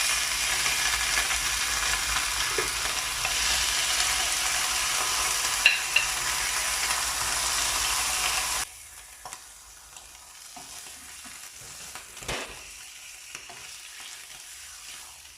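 An egg cooking under a lid in a frying pan gives a steady, soft sizzle that runs on for several seconds. Then the sizzle drops abruptly to a much quieter level, with a few faint clicks and bumps close by.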